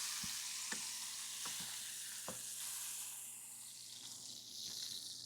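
Short ribs searing in a pan give a steady, moderate sizzle, with several sharp clacks and thumps as the meat is flipped and shifted, no voices.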